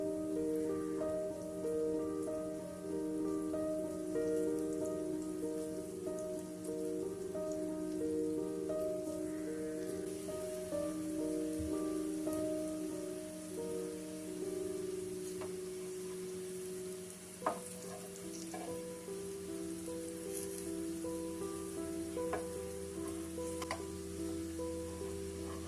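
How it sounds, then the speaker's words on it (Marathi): Raw banana slices fry in hot oil in a pan, giving a steady, close sizzle and crackle throughout, with a few sharp pops and spatters and faint tonal hum in the background. "कापं चांगले दोन्ही साईडने गोल्डन होईपर्यंत भाजून घ्यायचं आहे."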